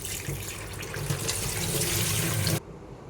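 Chicken being washed in a bowl under fresh running tap water, a steady close splashing rush for about two and a half seconds that then cuts off abruptly, leaving faint room noise.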